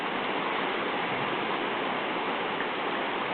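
Tambo River water rushes steadily after a flood, a dense, continuous broadband roar that holds constant throughout with no voices.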